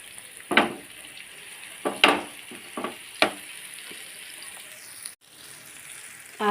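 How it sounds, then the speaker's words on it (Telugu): Food fries in a pan with oil: a constant soft sizzle broken by several sharp bursts of louder crackling and stirring scrapes, close up, with a brief cut near the end and no voices. "ఇలా ఫ్రై అవనిద్దాం కొంతసేపు."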